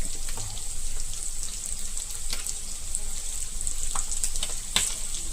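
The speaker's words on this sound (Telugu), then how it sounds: "చూడండి సౌండ్ చూసారా కదా అలా అలా సౌండ్ వస్తుందంటే మొత్తం అంతా ఫ్రై అయిపోయినట్లే" Chicken fries in hot oil for a chicken fry, a dense, even crackling sizzle that runs loud and close throughout, with faint clicks of stirring and no speech.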